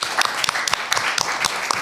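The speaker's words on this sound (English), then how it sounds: "So maybe just a round of applause for our previous students as well." Lecture audience applauding alumni at a university talk, a quick patter of many hands clapping at close range, brisk and fairly loud for a couple of seconds.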